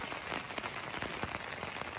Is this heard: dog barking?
no